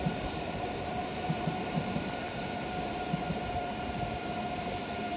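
Trains at Rotterdam Centraal station, a steady rumble of rail cars with a continuous mechanical hum and faint tonal whine, heard from the platform with no talk over it.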